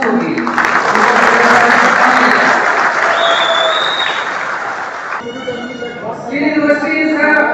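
A crowd at a political rally in Goa applauds loudly and steadily for several seconds, the clapping thinning toward the end as a voice comes through over it.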